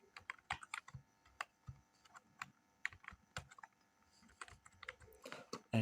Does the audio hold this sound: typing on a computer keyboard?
yes